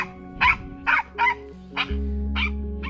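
A small dog barks indoors, several sharp yapping barks in quick succession, close and fairly loud, with a low hum underneath.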